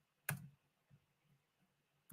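A few sharp, isolated clicks from a computer keyboard in a quiet room, faint and spaced apart rather than a steady typing run.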